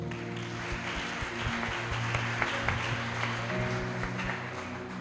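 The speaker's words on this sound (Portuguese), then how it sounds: "Você pode aplaudir Jesus?" Church congregation applauding at a worship service, soft and fairly distant clapping spread across the room, sitting over a steady backdrop of sustained keyboard or organ tones.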